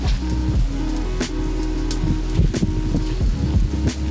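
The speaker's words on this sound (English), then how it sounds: "This rain's horrid." Rain falls steadily near a cave on a solo camping and fishing trip, a constant close patter with a few louder splashes and a low droning hum underneath.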